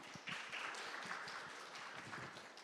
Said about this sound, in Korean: 여러분 큰 박수로 대표님을